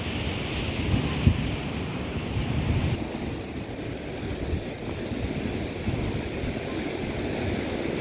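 Sea waves wash steadily onto Goodrington Sands beach, a continuous rushing surf with wind buffeting the microphone throughout, fairly distant and moderate in level.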